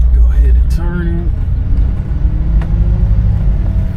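A 1960 Cadillac Series 62 on the move, its engine a deep low rumble that swells as it accelerates, heard from inside the car with someone talking over it.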